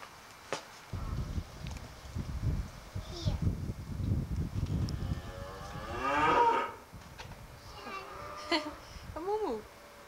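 A cow moos with a drawn-out, fairly loud low call on a 1986 home tape, followed by a shorter call, while a child babbles and people speak nearby and footsteps shuffle in the background.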